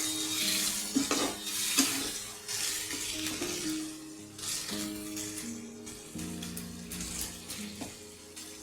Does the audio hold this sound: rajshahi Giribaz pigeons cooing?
no